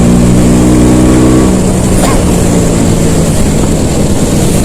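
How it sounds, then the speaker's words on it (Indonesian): A 2004 Vespa Excel scooter underway, its loud steady engine drone and road rush filling the whole stretch, with a low harmonic hum easing off partway through. "Jadi makanya ini Vespa dipakai manuver masih enak banget."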